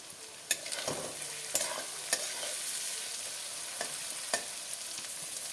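Onion frying in a pan as ginger-garlic paste and spices go in for a dry mutton bhuna, a steady close sizzle broken by sharp clacks and scrapes of stirring.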